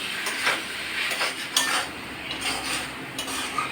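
A Bengali vegetable curry of ash gourd and dried fish is stirred in a pot, with a spoon scraping and clinking against the metal in irregular strokes and a soft simmer beneath, close up and without speech.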